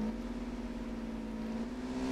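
Sports car in Arma 3 lapping a racing circuit, a steady engine drone with a sustained mid-pitched tone that holds evenly for two seconds, moderately loud and alone.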